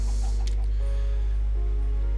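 Minecraft chickens in a farm pen cluck in the video game, a few short soft clucks and chirps rising over a loud constant low hum, with no talking.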